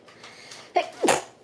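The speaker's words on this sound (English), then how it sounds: "I'm going to sneeze because this bronzer is going up my nose." A single quick sneeze bursts out after a soft breathy lead-in, close and fairly loud, with nothing else around it.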